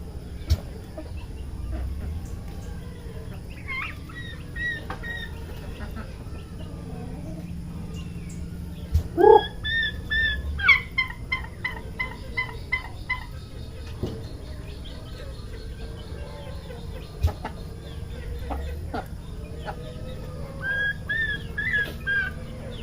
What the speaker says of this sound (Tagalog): Ito yung mga sisiw na una kong mga sisiw sa pabo mga lode.